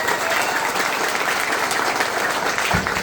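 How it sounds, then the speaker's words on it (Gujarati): A large crowd applauds at a tribal rickshaw union founding event in Umargam taluka, Valsad, a dense continuous clapping that stays loud and even for the whole stretch, with a faint voice beneath it. "એકવાર પોતાના માટે જોરદાર તાળીઓનો ગણગણાટ થઈ જાય"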